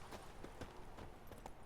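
Horse hooves clip-clop in The Witcher 3, around half a dozen soft, evenly spaced hoofbeats over a low ambient hum, with no voices.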